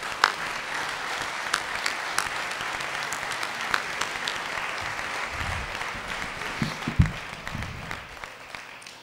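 Sustained applause from an audience at a protest-rights event welcoming a speaker onto the stage, a steady crowd clapping texture with scattered louder claps and a few low thumps near the end.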